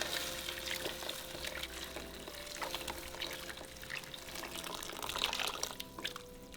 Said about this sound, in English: you can always just throw the water in here like that